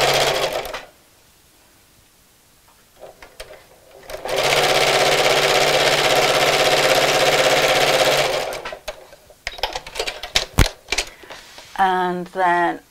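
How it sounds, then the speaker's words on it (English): A sewing machine stitches across a fabric Christmas gift sack. After a quiet pause, a steady, loud motor whir runs for about four seconds and then stops, followed by handling clatter and someone speaking. "So let's just sew across here."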